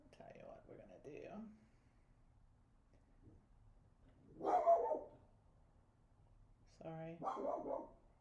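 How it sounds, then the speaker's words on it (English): A dog barks indoors in a few separate bursts, fairly close, spaced out over several seconds, with a person speaking briefly in between. "My dog is protecting us again."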